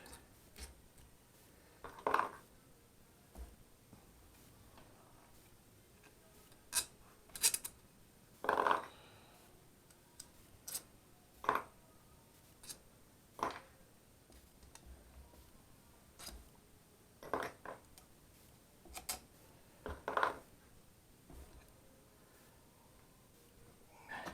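Screws being removed from the selector unit of a Rock-Ola 1448 jukebox, a series of sharp metallic clicks, ticks and small clinks spaced irregularly over a quiet background, close and crisp.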